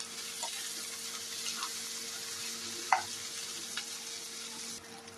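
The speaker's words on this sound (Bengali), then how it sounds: "কুচনো আদা রসুন দিয়ে দিয়েছি, এবার একটু লাল লাল করে ভেজে নেবো" Chopped ginger and garlic frying in oil, a faint, even sizzle with a few light stirring taps and one sharper clink near the middle.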